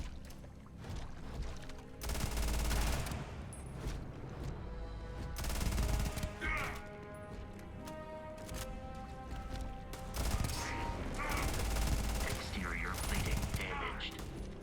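Gunfire in the space game Starfield, repeated bursts of rapid automatic shots in clusters over about fifteen seconds, mixed with mechanical clanks and game sounds, moderately loud and somewhat distant.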